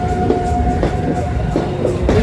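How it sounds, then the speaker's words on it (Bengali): A Kolkata circular railway train rolls past close by, a rumbling wheel-on-rail drone with rhythmic clacks and a faint squealing tone over it. "এই হচ্ছে চক্র রেল"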